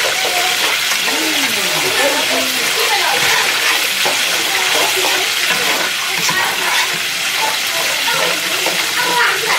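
Food in a pan fries and sizzles loudly after water is added, a continuous bubbling hiss close to the microphone for about ten seconds.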